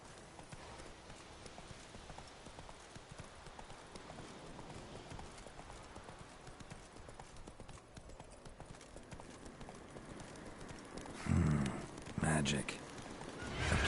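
Roach the horse's hooves in The Witcher 3, a steady clip-clop of trotting running continuously under game ambience, with louder bursts of sound near the end.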